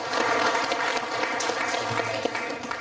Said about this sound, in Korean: 여기서 박수 한번 보내주시죠.